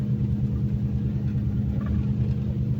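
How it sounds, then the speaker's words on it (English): A car drives along a road already flooded ahead of Hurricane Milton in Sarasota, Florida, giving a steady, close engine rumble with a continuous wash of road and water noise. "just driving to the little store, there's already so much water in the roadway"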